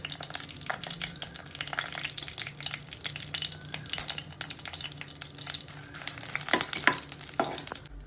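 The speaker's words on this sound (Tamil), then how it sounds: "ஒரு கடாயை வச்சுக்கலாம், நல்லெண்ணெய் விட்டுக்கலாம். காஞ்ச மிளகாய் போட்டுட்டு" Dried red chillies fry in sesame oil in a kadai, giving a soft, quiet crackling sizzle broken by occasional stirring clinks and scrapes.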